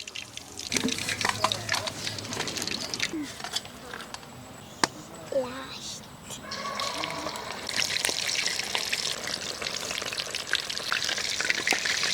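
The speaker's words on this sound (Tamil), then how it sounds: "மீன் நல்லா பொண்ணுமா வறுத்துட்டோம்" Fish pakoda pieces deep frying in hot oil in a village outdoor kitchen, a steady crackling sizzle with bubbling and occasional stirring clinks, growing denser toward the end, with people talking over it.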